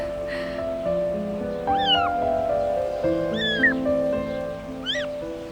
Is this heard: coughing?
no